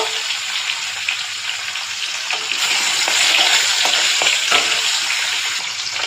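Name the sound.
fish frying in oil in a pan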